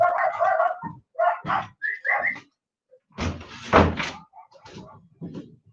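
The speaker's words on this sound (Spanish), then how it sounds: "voy a cerrar la puerta porque mis perros están ladrando." Dogs barking and a door closing at home, short separate bursts and thumps spaced by silence, close and fairly loud.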